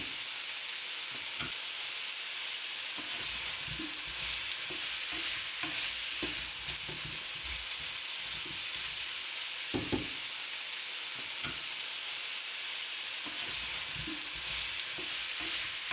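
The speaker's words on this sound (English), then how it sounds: "Next, add the onion and garlic. Just saute them briefly until the onion is translucent to take off that raw edge." Onion and garlic sautéing in a pan for garlic and onion fried potatoes, a loud continuous sizzle and hiss with occasional soft stirring knocks and scrapes, no voices.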